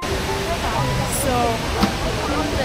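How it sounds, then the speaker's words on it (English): Detian waterfall on the China-Vietnam border sends up a steady, powerful roar of rushing water close by, with a voice talking over the continuous wash. "we can hear the powerful sound of the water"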